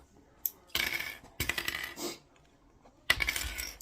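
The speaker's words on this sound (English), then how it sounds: "So now you're going to take the clamps off the top." Sewing clamps come off the top edge of a fabric shopping bag in a few sharp, close clicks and clatters, separated by short quiet gaps.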